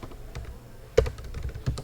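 SQL query typed on a computer keyboard, with irregular soft key taps and a couple of sharper strokes, close and fairly quiet.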